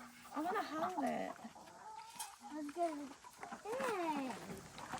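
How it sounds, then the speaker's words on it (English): A young rooster clucks and warbles in a series of close, rising and falling calls, with people talking in the background on a homestead. "This is the teenage rooster right here."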